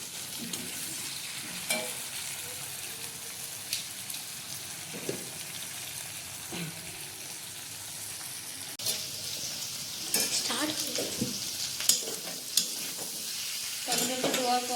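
Tomato and cabbage sizzle in a very hot wok as a steady frying hiss, with intermittent scraping stirs and clinks of a spatula, moderately close and alone.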